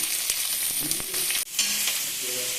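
Half an onion fries in a pan, the steady sizzle broken by a few stirring scrapes and knocks, close and fairly loud with no talking.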